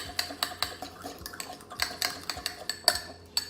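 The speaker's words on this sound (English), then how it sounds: "So then you mix the ingredients together" A spoon mixes mashed banana and honey for a face mask in a bowl, giving a run of quiet, rhythmic clinks and taps against the sides at a steady pace, faint and close with no speech.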